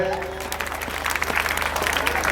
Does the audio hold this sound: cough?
no